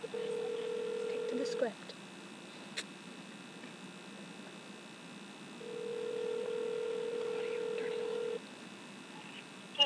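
A phone line sounds two long steady ringback tones separated by a pause before voicemail picks up, with a faint background hum and brief speech between the rings.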